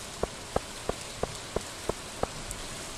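Rain in the farming game Stardew Valley: a soft steady patter under a series of about seven evenly spaced, distinct drip-like taps, fairly quiet and with no talking.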